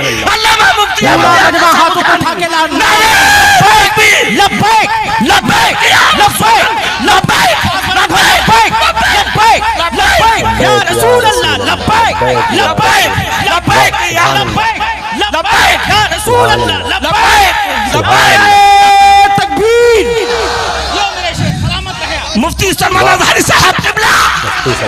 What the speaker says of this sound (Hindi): देख रहे हैं दोस्तों कितना हंगामा